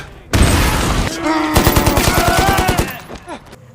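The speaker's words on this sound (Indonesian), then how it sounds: "ia menyerang tentara Jepang dengan menembak secara membabi buta" Loud machine gun fire from a war film rattles in a fast, even burst of rapid shots. A dense blast and roar come before it and the shots fade out at the end.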